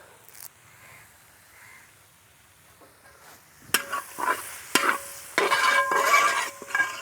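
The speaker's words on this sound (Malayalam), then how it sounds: "തീ കുറച്ചിട്ടിട്ടേ നമുക്കൊരല്പം കറുവേപ്പില ഇട്ട് കൊടുക്കാം" Fresh green curry leaves drop into hot oil in a pan for Angamaly pork varattiyathu, bursts of crackling sizzle and stirring scrapes growing loud in the second half after a quiet start.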